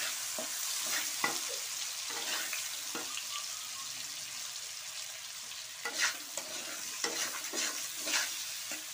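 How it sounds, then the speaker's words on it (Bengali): Onions sizzling in leftover fish-frying oil in a home kitchen, a steady soft frying hiss with occasional stirring scrapes, fairly quiet and close, no talking. "মাছ ভাজার তেলেই আমি পেঁয়াজটা দিয়ে দিচ্ছি"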